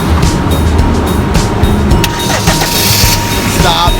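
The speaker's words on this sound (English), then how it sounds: "Alright, green, start your car." A car engine cranks and catches after a jump start from a Schumacher jump starter, a loud, close, noisy burst of engine sound with faint voices nearby.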